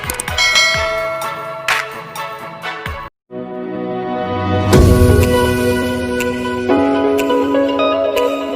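A notification bell sound effect rings out in bright, sustained chimes, then breaks into a short silence before a second, louder bell flourish rises and rings on with shimmering overtones, with no voices.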